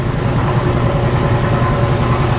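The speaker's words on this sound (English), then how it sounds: "This air compressor is going to probably run this whole entire clip" A running air compressor fills the space with a loud, continuous broadband hum and motor drone, close by and unbroken throughout.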